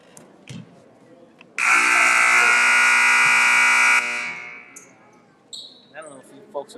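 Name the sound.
scoreboard buzzer at a basketball game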